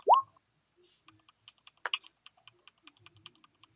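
Sparse, quiet keypresses on a computer keyboard, typed slowly at an uneven pace, with a brief squeak at the start.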